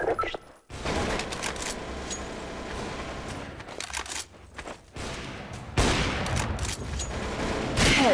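Rapid gunfire from Counter-Strike: Source, with dense bursts of rifle shots and sharp reports that run almost continuously, broken by a couple of brief gaps, loud and close with mechanical clicks.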